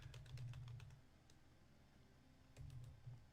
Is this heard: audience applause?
no